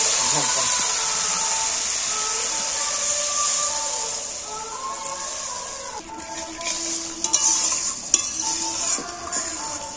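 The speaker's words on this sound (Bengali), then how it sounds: "এইবার মাছটা পরিমাণ মতো জল দিয়ে দিচ্ছি" Fried spice masala for a fish curry sizzles loudly in a pan with a steady hiss, then water goes in and the sound shifts into bubbling, with clanks of a utensil against the pan.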